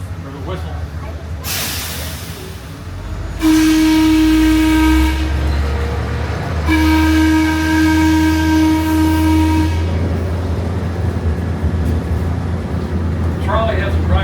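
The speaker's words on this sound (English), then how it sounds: "You'll hear them honk the horn or the whistle." A trolley horn sounds in two long sustained blasts with a short gap between at a crossing, over the rumble of the trolley and some background talk.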